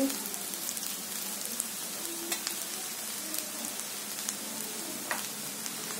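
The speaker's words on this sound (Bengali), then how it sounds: "ঘরোয়া ফ্রাইড রাইস বানাচ্ছি।" Homemade fried rice sizzles and crackles in a hot pan, a steady close frying hiss with scattered sharp pops and occasional stirring scrapes, no speech.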